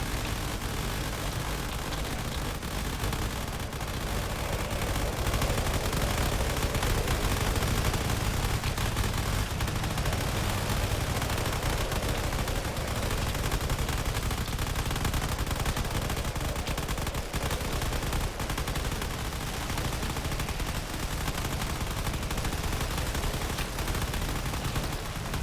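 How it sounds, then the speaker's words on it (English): Rapid cannon fire and explosions batter a battleship during a drone combat video game, a dense, continuous barrage of bursts with engine drone underneath that holds steady and loud throughout. "All that cannon fire is proven to be really lethal."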